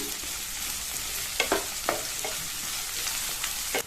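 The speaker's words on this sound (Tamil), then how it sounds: "இதில் இந்த ஆனியன் பாட்டை சேர்த்து ஒரு 2 நிமிஷம் போல வதக்கிக்கலாம்" Onion paste sautéing in a pan with boiled potatoes: a steady, close frying hiss runs throughout, broken by a few sharp spoon scrapes and stirs.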